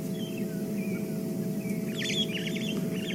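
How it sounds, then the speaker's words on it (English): Starlings calling on a sunrise safari drive, short chirps and warbling trills over a steady low vehicle engine rumble. "every time you can hear the starlings calling"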